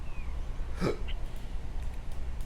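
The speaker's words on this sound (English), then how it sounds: "it seems that I have a little bit of hiccups." A single sharp hiccup rises suddenly from a man playing a real-time strategy game, loud and close against a low steady background hum, and nothing else follows it.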